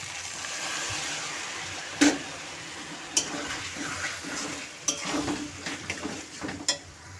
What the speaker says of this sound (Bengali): দিয়ে আমি আরও একটু নাড়াচাড়া করে মশলার জলটা আমি এর মধ্যে দিয়ে দিলাম।